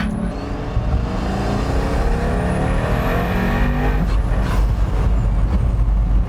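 A Pagani Huayra Roadster's engine roars under hard acceleration, a loud, continuous close-up rush of sound that climbs and holds with no talk over it.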